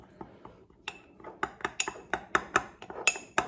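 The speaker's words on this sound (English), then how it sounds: "So again, give it a stir." A spoon stirring melted chocolate in a bowl, giving a quick series of light clinks and scrapes against the dish that grow louder and more frequent, close up with no talking.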